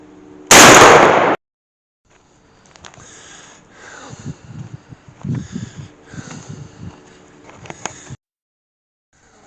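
A single loud shotgun blast while patterning at 40 yards, one sharp report near the start followed by brief silence and faint outdoor handling noises.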